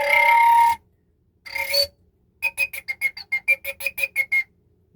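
A Native American flute sounds high, clear whistle tones: two sustained notes, then a quick series of short, evenly spaced chirping pips, played solo and close.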